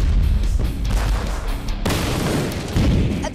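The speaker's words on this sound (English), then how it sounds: "At the beginning of the explosion" A loud, sudden blast from a chemical reaction in a barrel, followed by a continuous roaring rumble and crackle, with a second surge of noise near the end.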